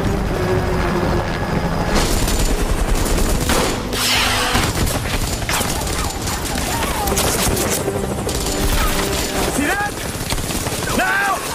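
Dense gunfire crackles and bursts over the steady, heavy whir of an attacking enemy helicopter in a war film, loud and continuous throughout with booming impacts mixed in.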